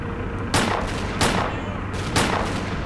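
Three loud gunshots at regular intervals from a firearm in the video game Stalker Clear Sky, each a sharp blast with a short tail, heard over a steady low background rumble.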